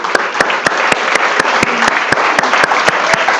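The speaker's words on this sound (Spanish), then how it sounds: "démosle un aplauso al Señor" A church congregation claps for the Lord during a sermon, a loud, sustained wash of applause broken by sharp claps in an even rhythm, with no voices.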